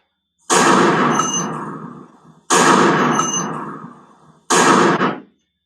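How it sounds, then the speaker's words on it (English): Three very loud recorded gunshots boom in sequence, each with a sharp blast and a long roaring decay, spaced about two seconds apart, with no talking. "For those of you who never heard a gunshot before, this is really loud"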